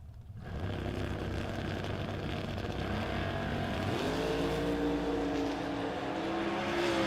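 A 1970 Chevelle and a Pontiac roar down a drag strip in a steady, loud engine drone that shifts upward in pitch partway through as the cars pull away.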